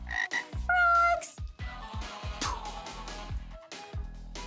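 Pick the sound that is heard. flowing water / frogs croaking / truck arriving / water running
frogs croaking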